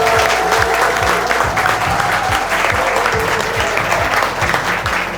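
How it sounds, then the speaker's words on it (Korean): Loud, sustained applause from an audience at a book talk, dense clapping continuing steadily throughout with a low crowd murmur beneath. "힘차게 박수 주시면 북토크 시작하도록 하겠습니다."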